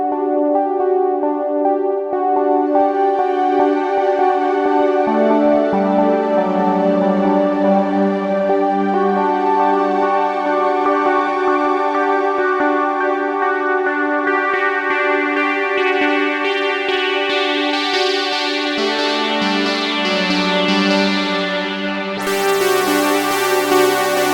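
A sustained, lush synth pad through a Strymon BigSky MX reverb pedal's Cloud algorithm swells with a wide, washy reverb tail, its shimmering upper layer brightening over time and swelling near the end.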